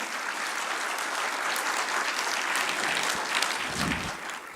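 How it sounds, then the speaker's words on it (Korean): An audience at a company sales strategy meeting claps steadily, giving a soft, even wash of applause that barely changes from start to finish. "박수 한번 주시죠"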